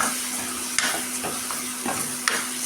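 A ground spice paste frying in a pan for a village-style dish, with a continuous sizzle and several sharp scraping clicks of a spoon stirring it at irregular moments.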